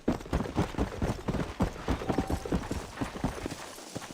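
Horse hooves gallop in the PC version of the video game Red Dead Redemption, a fast, steady clip-clop rhythm of many close hoof strikes that keeps going without pause and with no talking.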